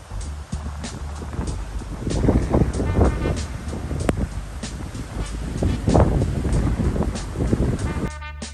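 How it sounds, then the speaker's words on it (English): Strong wind buffets the microphone on an exposed upland walk in the Brecon Beacons, making a continuous low, rumbling roar that swells and gusts throughout, close and loud, with no talking. "At this point, it was getting pretty windy"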